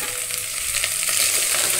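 Dhonde vegetable frying in a pan with ginger and garlic, a steady close hiss and sizzle with faint stirring noises throughout, with no talking.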